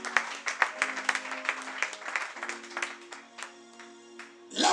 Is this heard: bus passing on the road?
no